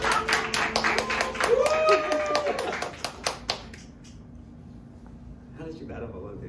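Audience clapping in a live pub, a brisk burst of hand claps for a few seconds that fades out, with people talking and laughing around it.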